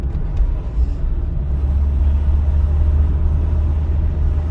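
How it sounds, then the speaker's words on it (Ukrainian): A car driven through town during a driving exam gives a loud, steady low engine and road rumble inside the cabin, with no distinct gear change standing out and no talking. "Я перейду на третю швидкість."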